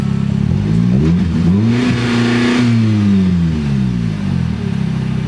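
A Dodge car with a supercharger revving in park: a loud, close engine that climbs in pitch, holds high for a couple of seconds, then falls back to idle, with a whine on top and no speech.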